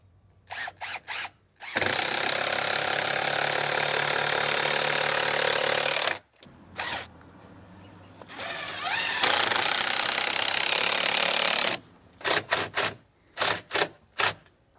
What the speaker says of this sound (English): screw it into place with our 3-inch hex head stainless steel screws